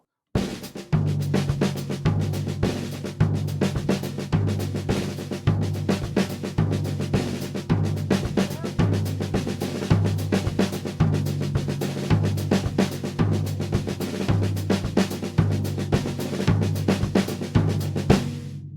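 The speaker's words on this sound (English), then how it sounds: "You can create some really nice textures by adding 5-stroke rolls leading to the downbeat of 1" A drum kit plays a steady, driving samba groove with repeating low tom accents and quick rolls leading into the downbeats, continuous and fairly close.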